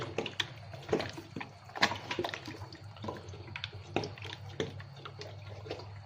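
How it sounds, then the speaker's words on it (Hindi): Roughly two cups of water pour into a pot of spiced bhuna gosht, a soft continuous splashing and gurgle with a few louder sloshes and clinks, close and fairly quiet, with no one speaking. "अभी इसमें तकरीबन 2 कप तक पानी डालेंगे"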